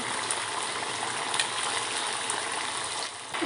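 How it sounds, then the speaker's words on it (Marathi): Steady, dense crackling sizzle of vadas deep-frying in hot oil over a medium flame, continuous and close, with no voices. "मीडियम फ्लेमवर आपल्याला वडे तळून घ्यायचे आहेत"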